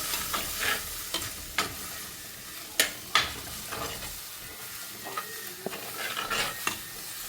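Kashmiri chili powder and fennel powder being stirred into a sizzling curry base in a pan for mussel curry, with soft frying hiss and several distinct spatula scrapes and knocks against the pan, no talk.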